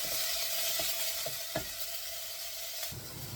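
Garlic and softened onions sizzle in a pan for sweet potato and rosemary soup, a steady frying hiss broken by several light scrapes and taps of the stirring spoon.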